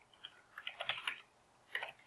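Someone types on a computer keyboard to enter a contact name. There are two short, soft bursts of key taps with a pause between them, quiet and close, and no talk.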